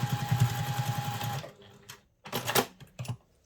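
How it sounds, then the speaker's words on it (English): A sewing machine top stitches a seam on a travel satchel with a rapid, even run of needle strokes for about a second and a half, then stops, followed by a few short handling sounds. "And then sew this with about 1/8 inch seam allowance"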